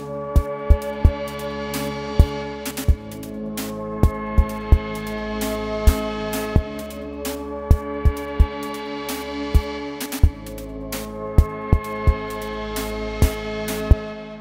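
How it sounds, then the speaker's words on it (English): A synthetic drum kit built in Cubase's Retrologue synth plays a steady beat of sharp electronic kicks and snare hits over a sustained, evolving synth pad, clean and loud with no voices. "hear that synthetic drum kit in action now. And in the context with another instrument, I've added a Retrologue style pad sound over here."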